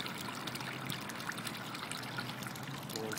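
A bell siphon in an aquaponics grow bed drains, water trickling and splashing steadily at low volume as the level falls, with no voices heard.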